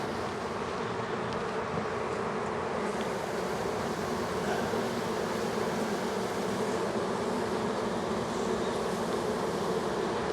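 Crowded honeybees at an overfull hive about to swarm produce a loud, continuous droning buzz that holds steady throughout without pause, with no voices.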